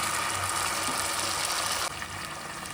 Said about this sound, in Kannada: 2 ಲೋಟ ನೀರು ಹಾಕ್ಕೊಳ್ಳೋಣ.